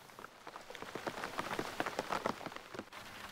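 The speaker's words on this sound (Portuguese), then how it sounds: "Com o anoitecer, a chuva chegou como um alívio" Steady rain falls at nightfall in the Mburucuyá area on the way to the Argentine Pantanal, a dense patter of drops on surfaces with scattered sharper taps, moderately loud and continuous, with no voices.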